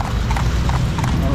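Hooves of a horse pulling a carriage through the streets of Marrakesh, Morocco, clip-clop in a quick, steady rhythm close by, over a dense bed of street noise.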